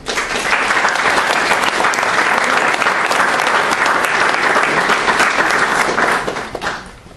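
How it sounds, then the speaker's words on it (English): An audience at a school district board meeting breaks into dense, loud applause that holds steady for about six seconds, then quickly fades out. "Eric, you got a lot of applause"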